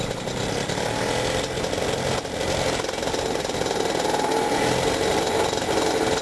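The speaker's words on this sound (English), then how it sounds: "To start the engine, I set the throttle to idle, turn on the ignition switch, and then pull the start rope to spin the prop." A small two-stroke paramotor engine, started by pull rope, runs steadily with a rough buzzing drone, loud and close, holding a fairly even pitch throughout with no talking.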